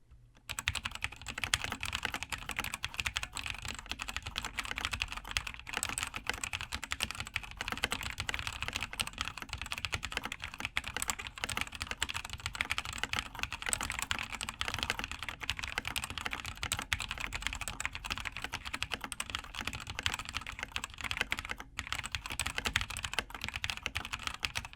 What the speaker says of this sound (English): let's listen to what the Razer Yellow switches sound like on the original board itself.